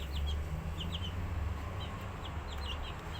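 Guinea fowl and green-egg-laying chickens kept on a balcony give short clucks and chirps that recur in small clusters over a steady low hum of background noise.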